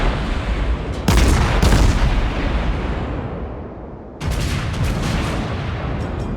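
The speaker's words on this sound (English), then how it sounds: "Keep shelling the Colorado, another fire, which is really good." Naval guns in World of Warships pound an enemy Colorado battleship, heavy booming salvos rolling together in a dense, loud wall, with two sharp fresh volleys landing about three seconds apart.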